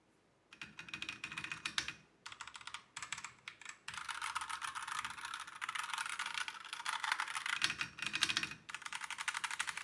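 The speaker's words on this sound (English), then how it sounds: "the sound is muffled, so you don't hear that clicky sound nor that sound of the mechanical mechanism" Soft, muffled typing on a membrane-muffled mechanical keyboard, steady bursts of quiet key presses with brief pauses, close up and without sharp clicks.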